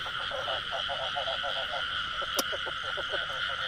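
Frogs croaking in pulsed trains near a wet rice field, with a steady high insect-like drone in the background and a sharp click midway; the calls are moderately close and continuous.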